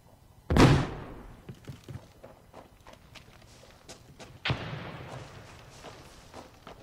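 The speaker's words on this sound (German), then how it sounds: "Gott, die Schritte machen mich aber auch wahnsinnig." Footsteps in the video game America's Army, with a loud thud at the start and another about four seconds later, plus lighter irregular steps and clatter between them.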